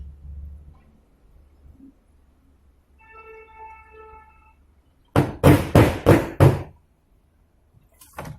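Whirlpool Ace XL 9.0 kg washing machine with a worn-out drum as its spin cycle stops: a soft tonal whine, then a quick run of five loud knocking thumps from the drum, close and alone.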